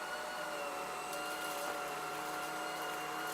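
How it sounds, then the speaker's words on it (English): A Shark Rocket stick vacuum runs steadily across a floor picking up spilled rice and debris, a continuous whirring motor drone with faint rattling of grains, moderately quiet and alone. "you can see it's vacuuming it up without kicking the rice out the back across the floor"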